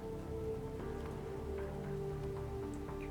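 Night rain falling over a city in the video game Punishing: Gray Raven, a steady soft patter of raindrops on surfaces with a low continuous hum beneath, alone and fairly quiet.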